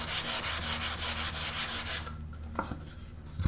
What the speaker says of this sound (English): I'm going to give this a little sand with my sanding block